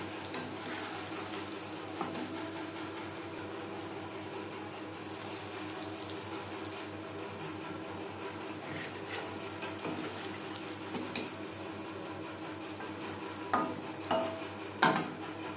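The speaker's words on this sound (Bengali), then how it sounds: "তেল গরম হয়ে গেছে, এবার দিয়ে দেবো চপ" Banana flower chops coated in biscuit crumbs sizzle in hot oil, a steady close crackle with occasional sharper pops and utensil clinks toward the end.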